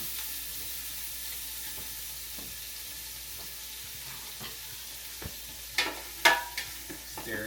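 Gumbo ingredients hitting a hot pot and starting to sauté, a steady low sizzle building into a few louder clatters and hisses as the batch goes in and is stirred, close by and with no talking.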